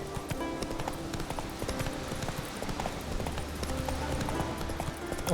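Geralt's horse Roach gallops through The Witcher 3 with a steady, fairly close run of hoof clip-clops over low game ambience and faint background music.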